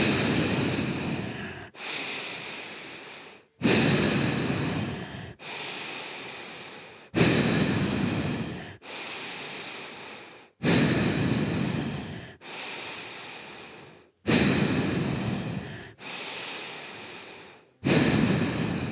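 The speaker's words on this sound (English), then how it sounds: "A long breath in. And long breath out." Bhastrika pranayama yoga breathing: long, forceful breaths in and out repeat in a steady rhythm, about ten strong rushing breaths over the span, each swelling then fading, close and alone with no talk.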